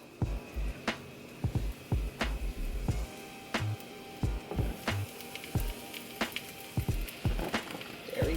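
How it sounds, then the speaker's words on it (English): Jalapeño popper taquito frying in a hot pan, a low steady sizzle under a series of sharp clicks and light knocks, close and fairly quiet, with no voices. "So I don't know if you can hear the little bit of sizzle."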